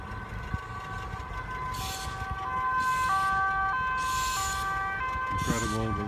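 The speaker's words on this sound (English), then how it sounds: "Incredible that there's even an ambulance or something." An ambulance siren wails in a two-tone pattern over steady traffic and engine rumble, its pitch shifting slightly as it passes, with a voice faintly underneath.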